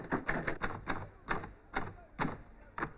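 Typewriter keys are struck in an uneven series of sharp clacks, about eight distinct strikes, on a machine with some sticking keys; close and fairly quiet, with no voices.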